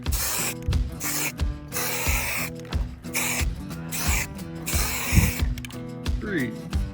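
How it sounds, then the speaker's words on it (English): White spray paint hissing from an aerosol can in bursts with short gaps, close and fairly loud, in a workshop setting beside sump pump testing. "I'm going to grab white spray paint because this thing sucks."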